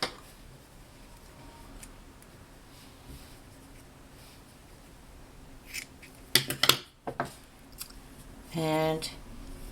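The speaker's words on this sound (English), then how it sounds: "you cut your yarn" Scissors snipping through crochet yarn at the end of a rug row, a few quick close cuts after a quiet stretch, then a brief rasping rustle.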